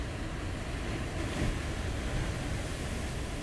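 Gentle water ripples lap at the edge of a tidal pool, a steady broadband wash with soft surf-like swells and faint wind, continuous and close throughout with no voices.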